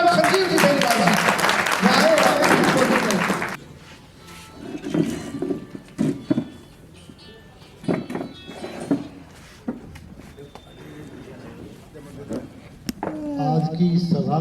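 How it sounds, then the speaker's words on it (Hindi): Loud crowd applause at a political rally for Sanjeev Beniwal fills the opening few seconds, then cuts off as someone speaks over a quieter background. "जोरदार तालियों के साथ श्रीमान संजीव जी बेनीवाल"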